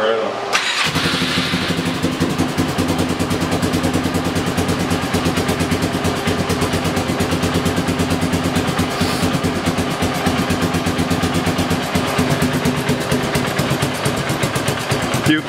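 A Polaris ATV engine cranks and fires, then settles into a steady, rapid idle that pulses evenly and runs close and loud throughout.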